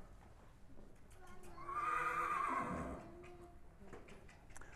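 A horse whinnies loudly in the middle of a training session, the neigh rising and falling over a couple of seconds, with faint hoof clops and quiet talk in the background.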